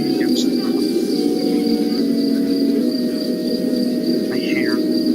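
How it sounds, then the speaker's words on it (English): Cicadas humming in the distance as ambient sound in the game Asagao Academy: a steady, unbroken insect drone with a thin high buzzing tone over a dense lower hum, plus a couple of faint chirps, holding even loudness throughout. "In the distance, cicadas hummed"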